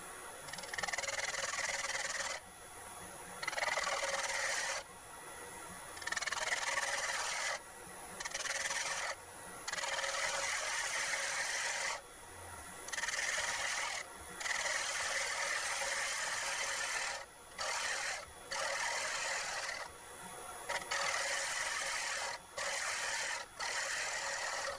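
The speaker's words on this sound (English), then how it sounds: "Final pass with the scraper" A scraper rasps against a spinning segmented wooden bowl on a lathe in a final cut, a close, loud, gritty scraping in repeated passes separated by brief gaps, with the motor humming underneath.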